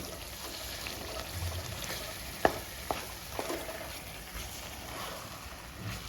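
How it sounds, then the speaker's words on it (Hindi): Chicken keema roasting in a pan over a full flame for samosa filling: a steady, quiet sizzle and fry with a few sharp scrapes and taps of a spoon stirring, no voices. "चिकन कीमे को हमें अच्छे से भून लेना है।"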